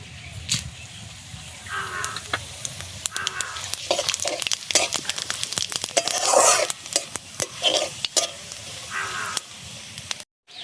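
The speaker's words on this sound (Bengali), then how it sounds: "জিরেটা ভাজা হয়ে গেছে" Cumin seeds fry in oil with bay leaves and dried red chillies for a katla fish curry, a close crackling sizzle with spatula scrapes, while crows caw in the background.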